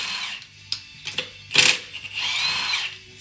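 A power tool spins off the bolts on top of a strut during a leveling kit install on a 2014 Silverado, with short whirring bursts and one sharper, louder buzz, up close and without talk.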